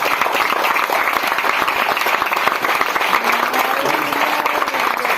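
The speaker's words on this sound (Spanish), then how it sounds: "¿Cuántos aplauden a Dios por esta verdad?" A church congregation claps together, a loud, continuous patter of many hands, with a few faint voices calling out beneath the applause.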